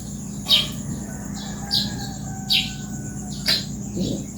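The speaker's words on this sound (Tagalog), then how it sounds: "Yung mga kunin ng ibon sa umaga." Morning birds chirp outdoors in short, sharp bursts at roughly one-second intervals, clear and moderately close over a low steady background hum.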